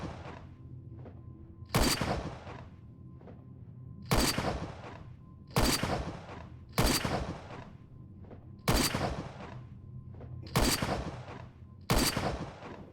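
Gunfire on a firing range in the video game Crunch Element Alpha: seven loud, sharp shots spaced a second or two apart, each with a short echoing tail, over a low steady hum with no talking.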